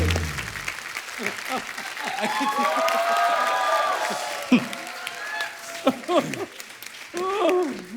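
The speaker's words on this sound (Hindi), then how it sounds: "एक बार जीतू सर और एकता जी के लिए जोरदार तालियां।" Studio audience on a Hindi television comedy show applauds loudly for a sustained stretch, with cheering voices and a host speaking over the clapping.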